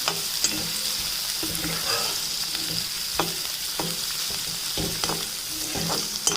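Pieces of bitter gourd frying in oil give a continuous close sizzle, broken by regular spatula scrapes and stirring knocks.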